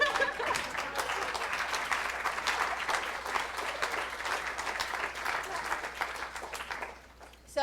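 A room full of people at a reRoute opening session claps warmly for the event staff and volunteers, a dense, steady applause lasting about seven seconds before dying away.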